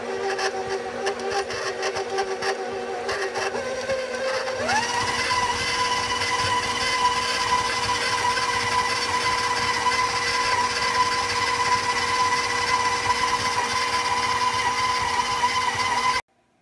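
A powdered sugar and vanilla frosting mixing with a steady high electric mixer whine that jumps up in speed partway through, then runs evenly until it cuts off at the end.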